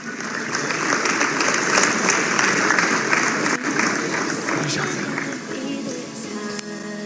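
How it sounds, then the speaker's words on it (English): A conference audience applauds in a sustained, dense wash of clapping, steady and loud throughout, with some voices mixed in. "Round of applause, ladies and gentlemen."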